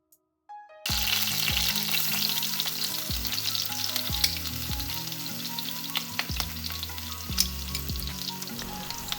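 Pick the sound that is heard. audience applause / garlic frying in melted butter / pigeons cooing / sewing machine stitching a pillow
garlic frying in melted butter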